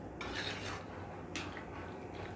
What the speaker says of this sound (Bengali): ভালো করে নেড়ে দিচ্ছি আমি